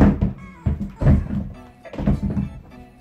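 A Vans shoe thrown onto the floor lands with a dull, heavy thunk. Several thuds and bumps follow in quick succession, close and fairly loud, with no talking over them.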